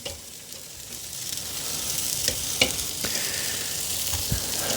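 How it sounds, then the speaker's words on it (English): Steak searing directly on hot charcoal briquettes gives a steady, close sizzle and crackle that runs the whole time, with a few sharp pops rising above it. "It's a bit unusual to actually be searing on the briquettes"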